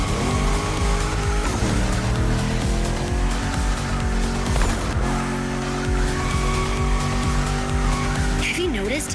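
A car drifts in the racing video game The Crew Motorfest, its engine droning steadily while tire squeal and skidding rise and fall, with in-game voice speaking over the action.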